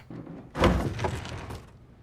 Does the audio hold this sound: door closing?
yes